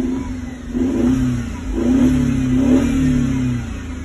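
A Mercedes-Benz C250 accelerates on a test drive after a high-pressure fuel pump repair, its engine note rising in two or three swelling surges, loud and close from inside the car, with no talk.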